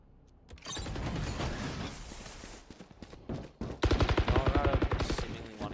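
Pistol shots from a Sheriff in a Valorant match, a burst of sharp game gunfire and mechanical clatter followed by a rapid string of loud, evenly spaced shots, with a caster's voice faintly present.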